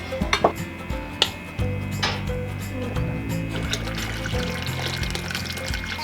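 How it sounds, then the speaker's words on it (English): Water pours into a water bath canner holding jars for processing, a steady close fill of splashing and gurgling after a few brief knocks of pots or jars at the start. "I just have to add more water."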